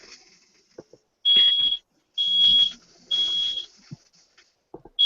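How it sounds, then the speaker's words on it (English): A smoke detector sounds while someone cooks, giving three loud, sustained high-pitched beeps separated by short gaps, with faint household noise between them. "Sounds like your smoke detector's going off."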